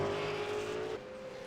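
Race cars in a racing video game roar past in a steady, loud engine drone, one tone shifting pitch partway through as a car passes or changes gear, with no voices over it.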